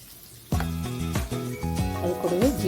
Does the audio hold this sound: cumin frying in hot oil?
yes